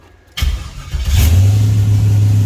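A turbocharged car fitted with Lingenfelter and Holley parts, sitting in neutral, cranks briefly, catches, and settles into a loud, steady idle close by, with no one talking.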